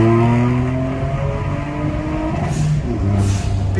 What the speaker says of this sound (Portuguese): Pipoco na troca de marcha